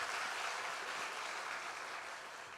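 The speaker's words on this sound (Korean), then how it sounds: "우리 박수로 한번 격려했으면 좋겠습니다" Church congregation clapping to encourage its youth group at a Sunday afternoon service, a soft, even spread of many hands heard from a distance, fading gently.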